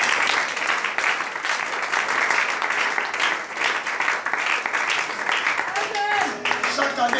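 A church congregation applauding in sustained, dense clapping that fills the room, with voices audible under it and a few sung or spoken tones rising near the end.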